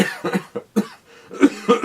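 A string of short, sharp coughs close to the microphone, several bursts in quick succession with brief pauses between them.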